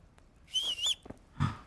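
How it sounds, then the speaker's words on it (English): A game character whistles in a medieval role-playing game, Kingdom Come, with two short, fairly loud whistled bursts separated by a brief pause. No one speaks. "I did not mean to whistle."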